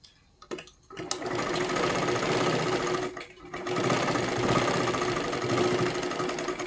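A sewing machine stitches katori blouse fabric in a steady, loud mechanical whir, a short pause near the start and another brief dip midway before the stitching resumes.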